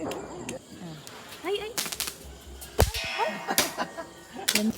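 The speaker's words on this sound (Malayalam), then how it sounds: "പടക്കം പൊട്ടിക്കാൻ വേണ്ടിയിട്ട്" Firecrackers lit from candles during Vishu festival celebrations go off in several sharp, loud bangs and crackles scattered over a few seconds, with voices and outdoor commotion between the bursts.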